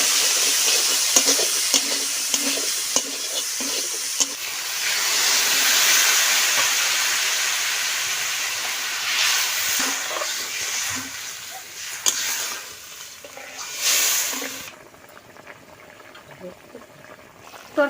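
Meat is added to spice masala already sautéed in a pan, raising a broad hiss and bubbling sizzle with occasional stirring clatter that fades and drops away near the end, while speech is faintly present.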